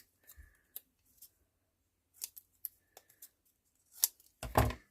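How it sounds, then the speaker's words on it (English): Scissors cutting around the edge of a black label, a few sparse, crisp close snips separated by quiet gaps, with a louder rustle at the end. "Let's just cut that down a little bit. I'm just gonna cut around the edge."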